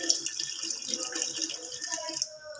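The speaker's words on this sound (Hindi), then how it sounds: "बस इतना सा पानी डाल देंगे।" Water is poured into the cooking masala for a chicken and potato curry, giving a steady splashing trickle at close range that thins out near the end, with a voice faintly in the background.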